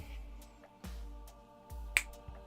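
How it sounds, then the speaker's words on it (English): Sharp, close finger snaps ring out one at a time over a quiet backdrop, with one especially crisp, bright snap standing out among several softer knocks. "You want me to just snap my fingers and forgive you?"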